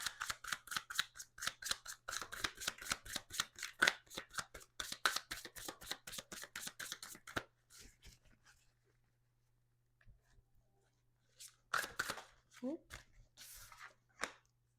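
Tarot cards are riffled and shuffled in fast, crisp, rapid bursts for several seconds, then a few softer card handling sounds follow.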